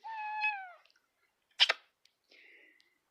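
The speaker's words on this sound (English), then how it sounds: "I've got a cat right in front of me." A cat gives a clear, drawn-out meow close by, followed by a short sneeze-like burst and a faint trailing squeak in an otherwise quiet room.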